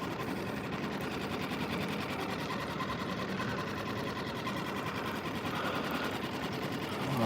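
A new 2025 Suzuki 6HP outboard motor running at quarter throttle, a steady, fast-ticking mechanical buzz that holds even and close throughout without any pauses.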